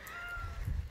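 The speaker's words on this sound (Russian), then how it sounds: "На нервы, короче, мне играет эта кошка, и все." A domestic cat meows once indoors, a clear close meow that rises and bends over a low background rumble.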